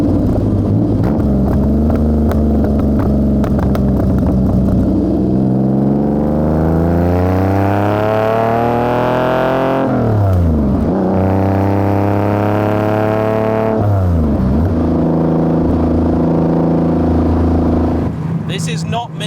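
A TVR T350C Red Rose fitted with a Sagaris 4.0L engine accelerates hard, its loud engine note climbing steadily through the gears with two clear shifts, while someone talks over it from inside the car.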